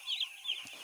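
Young broiler chickens in a poultry farm shed give faint, high-pitched peeps and chirps in a brief cluster, distant and quiet with no talk.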